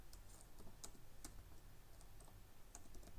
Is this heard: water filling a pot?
no